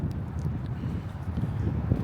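Steady low wind buffeting a microphone outdoors on a town centre stroll in Bognor Regis, a continuous rumbling roar with no clear voices.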